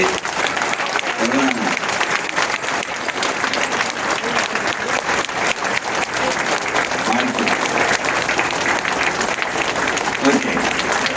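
Audience applause at a World Heart Day talk on heart health, a dense, steady wash of clapping filling the hall for the whole stretch, loud and continuous with faint voices mixed in.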